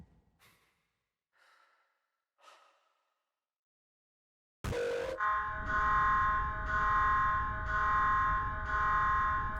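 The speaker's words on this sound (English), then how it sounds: "alarms started ringing." After a few soft breaths, an alarm in the horror game Mouthwashing suddenly blares and keeps ringing loudly in steady repeating pulses.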